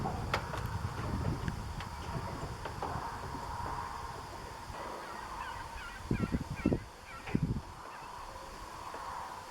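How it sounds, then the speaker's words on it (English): Several short bird calls and honks ring out by a lake over a steady outdoor wash of water and distant traffic, with a louder cluster of calls near the end. "Hear a few birds."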